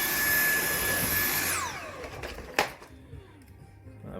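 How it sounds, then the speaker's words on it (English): A Dyson V8 Animal handheld vacuum cleaner runs loud and steady on a carpet floor with a high whine, then winds down after switching off, followed by a single sharp knock and quiet handling. "Quick video of the V8 Dyson in action on a carpet floor."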